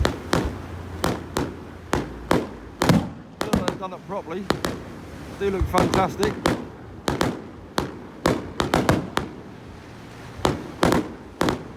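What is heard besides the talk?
fireworks exploding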